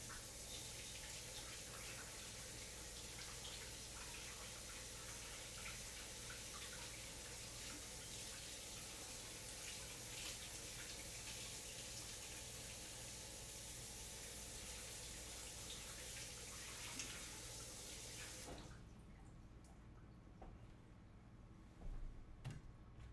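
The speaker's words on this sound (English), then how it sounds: "we're first off going to wash, and then cut these squash and zucchini" Kitchen tap water runs steadily while squash and zucchini are washed at the sink, a continuous close rushing stream that stops abruptly near the end, leaving a quiet room.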